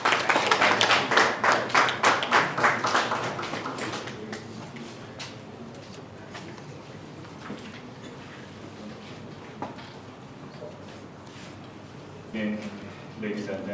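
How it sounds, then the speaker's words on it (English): Conference audience at a network operators' meeting gives a round of applause that starts loud and fades within about four seconds, followed by quiet room noise and a voice speaking. "Give him a round of applause,"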